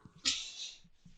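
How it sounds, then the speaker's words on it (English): One short, sharp sneeze bursts out after a brief intake of breath, close to the microphone and quickly fading into quiet breathing. "had to sneeze there."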